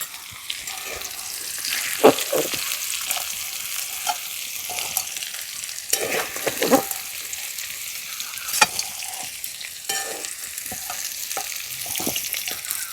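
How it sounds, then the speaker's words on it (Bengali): Young jackfruit fries in oil in a pan, a steady close sizzle broken by scraping and knocking as the pieces are stirred, with no talk. "এইভাবে একটু সময় নিয়ে এঁচোড়টা লাল লাল করে ভেজে নিয়েছি,"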